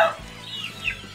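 Young quails on a farm give short clucking chirps close by, a quick high call at the start and another brief one near the end over low background hum.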